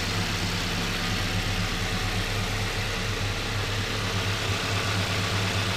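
A cold car engine, just brought inside, idles continuously with a steady low hum and a faint rough undertone, with no talk over it.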